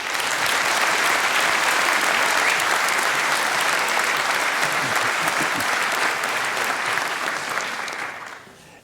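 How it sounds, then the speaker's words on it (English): A conference audience gives a loud, sustained round of applause welcoming a speaker at a hacker event, dense clapping filling the hall steadily before tapering off at the end. "Please welcome him with a huge round of applause."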